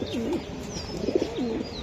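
A racer pigeon coos close by in repeated rolling, warbling calls over a steady background hum, with faint higher chirps from other birds.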